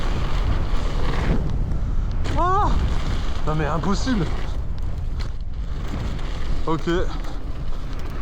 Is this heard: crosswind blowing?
yes